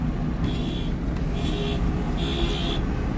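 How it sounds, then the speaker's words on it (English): Three sustained car horn blasts sound one after another over a steady, loud rumble of idling engines outdoors at a vehicle convoy rally in St. John's, Newfoundland, in solidarity with truckers. "Horns are a-blowing."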